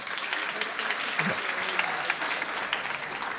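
Audience applause at a Biennale Democrazia 2013 public talk, a steady wash of many hands clapping in a hall, fairly distant and even throughout, with a brief low voice sound near the middle.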